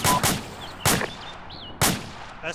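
Mortar rounds firing in the military game Arma 2, three sharp loud blasts spaced roughly a second apart, with a fainter fourth report at the end.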